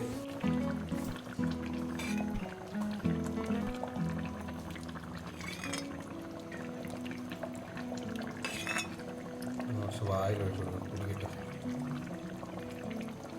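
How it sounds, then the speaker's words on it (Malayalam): Raw coconut oil is poured over a simmering fish head curry in a pan, giving a soft, steady liquid trickle close by, with occasional light clinks of utensils against cookware and no talking. "കുറച്ച് പച്ച വെളിച്ചെണ്ണ കൂടെ മണ്ടയിലോട്ട് ഒഴിക്കുക."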